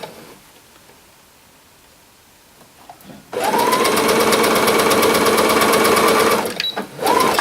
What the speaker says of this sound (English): I can just sew out to the side seam here